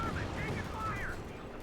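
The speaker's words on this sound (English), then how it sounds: "heavy machine gun wipe here" Heavy machine gun fire in Company of Heroes 2, a sustained dense rattle of gunfire running through the clip with game battle noise and a commentator talking over it.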